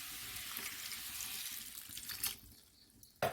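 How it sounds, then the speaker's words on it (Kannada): Water poured into a pan of coconut masala with masala powder and turmeric for squid sukka gives a steady rushing splash for about two seconds, then quiet with a brief sharp clatter near the end. "ಸ್ವಲ್ಪ ನೀರು ಹಾಕ್ಕೊಂಡಿದ್ದೀನಿ"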